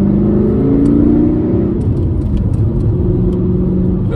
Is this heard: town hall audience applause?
no